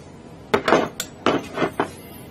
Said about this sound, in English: you just push your hand down, bring the mandrel down